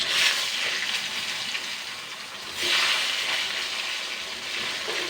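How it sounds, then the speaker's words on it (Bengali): Eggplant pieces dropped into hot mustard oil in a pan, a loud close hiss of frying that swells in two bursts as they go in, then settles into a steady sizzle. "তো এবার আমি বেগুনগুলো দিয়ে দেবো।"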